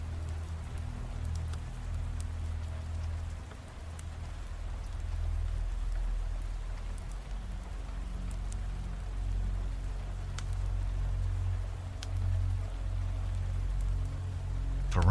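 Steady rain falling, an even continuous hiss of drops with a low rumbling undertone, constant and unbroken throughout with no voices.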